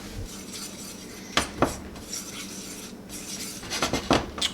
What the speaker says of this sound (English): And we're going to stir this to combine.